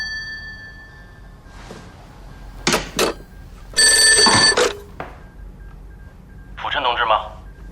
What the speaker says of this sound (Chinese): 我先接这电话，听他怎么说